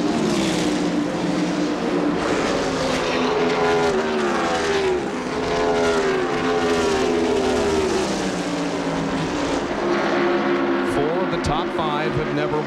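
NASCAR Winston Cup race cars roar around Darlington Raceway in 1995, a dense, continuous engine drone with pitch sweeping as cars pass close, under steady commentary.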